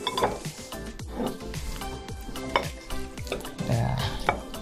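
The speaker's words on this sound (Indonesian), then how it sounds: "Tinggal cemplung-cemplung aja semua nih." Lemongrass and fried spice paste are dropped into a metal cooking pot for an Indonesian jackfruit vegetable stew, giving repeated close clinks, knocks and splashy thuds in an uneven rhythm.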